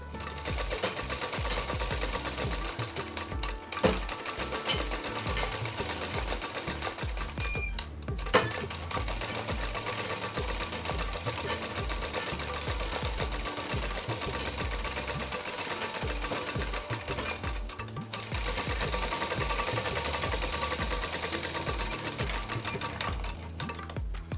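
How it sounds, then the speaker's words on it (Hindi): A sewing machine double-stitches kurti sleeves in a tailoring lesson, whirring and clattering continuously up close with a few brief pauses between runs of stitching. "एक समान रखते हुए बाएं से दाएं डबल सिलाई करना है।"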